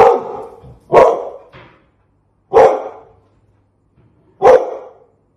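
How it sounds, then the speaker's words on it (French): A dog barks four times close by at the television, loud separate barks spaced a second or two apart, with short fading tails and silence between. "Regarde la télé en aboyant."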